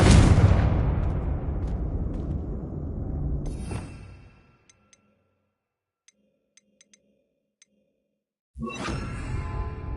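A Confringo blasting-curse explosion in Hogwarts Legacy, one loud close blast that rumbles and fades over a few seconds, then near silence with faint pings before another burst of noise cuts in.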